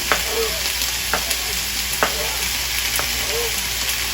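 Peeled garlic, previously frozen, sizzles in a hot pan on turned-down heat, a steady bright hiss broken by soft stirring clicks at regular intervals.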